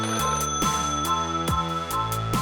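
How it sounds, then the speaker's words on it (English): A phone rings with a melodic electronic ringtone, bright stepped tones repeating in a quick pattern, clear and alone with no talk. "Who keeps calling on that phone?"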